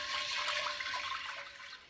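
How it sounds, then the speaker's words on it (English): Tap water pouring into a mixing bowl as baking soda soak is prepared in a kitchen, a steady hissing splash that fades slightly toward the end, quiet and alone. "And then just fill out with water."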